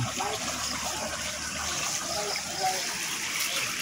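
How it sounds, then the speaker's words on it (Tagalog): River water flowing beside rice paddies in rural farmland, a steady broadband rush that stays fairly constant throughout, with faint voices and footsteps now and then. "May ilog pa rito."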